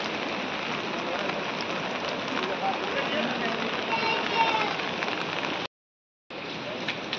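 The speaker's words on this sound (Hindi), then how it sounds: "तो बारिश जो है अभी भी हल्की हल्की हो रही है" Steady light rain patters continuously during days of ongoing rain under dark clouds and fog, a dense even hiss of drops on surfaces, briefly cutting out near the end before resuming.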